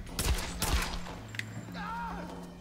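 Pistol fire in Tomb Raider, two sharp, loud shots in quick succession followed by a quieter mechanical clatter and game ambience.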